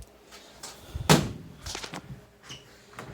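The top lid of a sandwich prep refrigerator swings open with a single solid thump, followed by lighter clunks and rattles from the unit, close by and with no speech.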